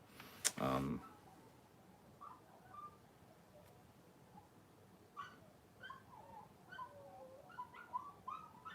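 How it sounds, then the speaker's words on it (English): Dogs bark and whimper in the background, with short yips and whines scattered through the second half, faint and distant beneath a sharp knock near the start. "Hear the dogs?"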